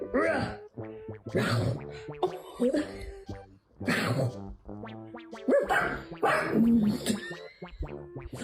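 A dog gives several sharp barks in quick bursts, fairly close, with splashing and people talking in between.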